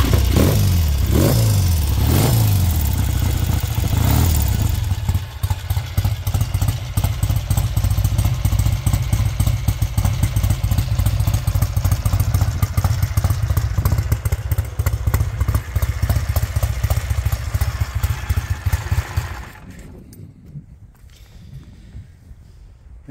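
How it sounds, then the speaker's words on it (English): A cold 1968 Triumph Tiger T100 motorcycle engine fires up with a few sharp revving bursts, then settles into a steady, loud, throbbing idle for about fifteen seconds before cutting out and going quiet. "I will fire it up again so you can see it idle."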